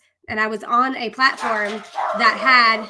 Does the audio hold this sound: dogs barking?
yes